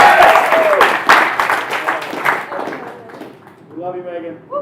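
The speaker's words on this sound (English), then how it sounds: "Give it a big round of applause for first-time performer Megan O'Gorman." Stand-up comedy show audience applauding and cheering for a first-time performer, loud crowded clapping that fades over a few seconds, with a voice speaking over the tail.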